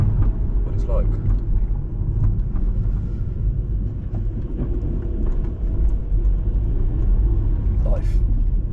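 A slammed Audi A3 cruises along the road on a drive to the gym, its low steady engine rumble and road noise filling the cabin continuously, with brief faint knocks over the drone.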